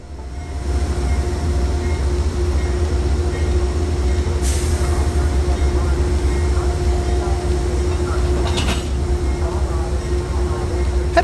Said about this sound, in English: Locomotive 715 backs up and couples on to train 48.